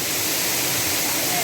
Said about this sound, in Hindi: ये पांडव वन का झरना है साथियों।